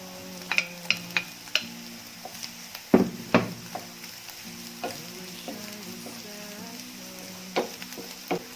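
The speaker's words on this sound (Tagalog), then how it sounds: "Ngayong medyo na prito na yung ating beef loaf, paglagay naman tayo ng 4 cloves ng garlic" Beef loaf and garlic cloves fry in a pan with steady sizzling, broken by scattered clinks and scrapes of a utensil stirring, close and moderately loud.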